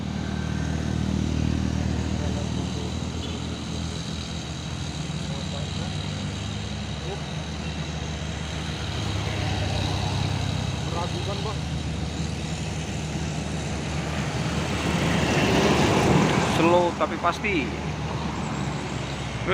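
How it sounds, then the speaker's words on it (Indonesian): A Fuso Super Great trailer truck hauling steel piles labors up the steep Bukit Kodok climb in daytime, its engine drone droning on amid passing traffic and growing louder near the end, while someone talks over it. "satu unit truk trailer Fuso Super Grid membawa paku bumi melewati tanjakan Bukit Kodok di siang hari"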